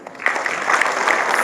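Audience applause at an awards ceremony, a dense burst of clapping that swells and holds steady, fairly loud and close.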